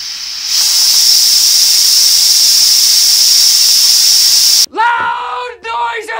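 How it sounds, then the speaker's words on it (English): Compressed air hisses loudly and steadily out of a resin casting pressure pot, a sharp close-up blast lasting several seconds that cuts off abruptly, followed by brief voices. "I guess I should let the air out first."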